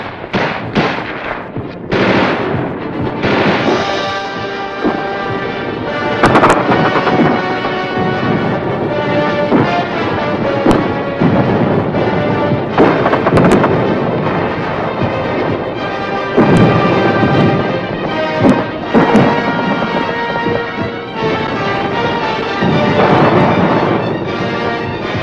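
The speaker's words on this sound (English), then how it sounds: "Gunfire roared in the streets" Loud, dense gunfire crackles and booms continuously in city streets during the Vietnam War, sharp bursts and automatic fire overlapping with heavy echoing blasts.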